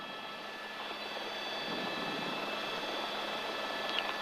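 A police helicopter flies overhead at night above Hollywood during a motorbike chase, its rotor and engine making a steady, distant whirring drone that builds slightly in loudness.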